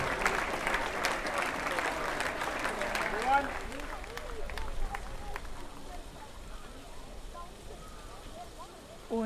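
Crowd applause for medal winners at a junior international rowing regatta finals, a broad wash of clapping strongest in the first few seconds, then thinning and fading under a more distant, murmuring background.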